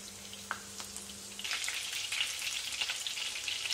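Chicken pieces for chicken Manchurian sizzle steadily in hot oil, a dense close crackle that bursts on after a brief quiet start and holds loud to the end, with no talking.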